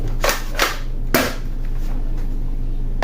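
An M690 pellet gun with a buttstock fires three sharp snapping shots, evenly spaced then a slightly longer gap, close and crisp over a steady low background hum.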